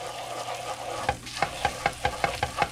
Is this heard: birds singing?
no